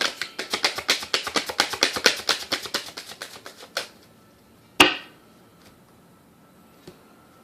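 Tarot cards being shuffled in a steady run of crisp, rapid riffling flicks for several seconds, then a single sharp snap as one card is drawn, followed by near silence and a faint tap.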